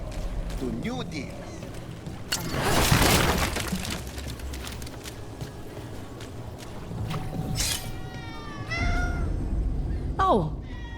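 Within Dragon Age: The Veilguard, a cat meows a few times amid busy game ambience of crowd chatter, clatter and a rushing sound, with people talking throughout.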